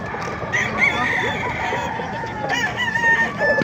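A Boston sweater gamefowl rooster at a busy market stall crows amid a dense, continuous clamor of other roosters and fowl, steady and loud throughout.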